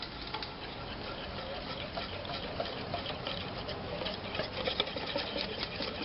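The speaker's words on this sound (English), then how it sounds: "all I'm doing is whisking this up so all the ingredients gets" Raw chocolate cupcake ingredients are whisked in a bowl over a double boiler, giving a quiet, steady, rapid ticking and scraping that runs without pause from start to finish.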